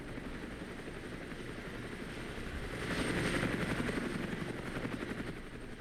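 Helicopters in the war game Armored Brigade give off a steady, close rotor whir and engine drone that swells slightly midway, with no voices.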